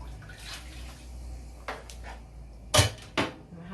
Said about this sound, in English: I'm adding my coconut milk.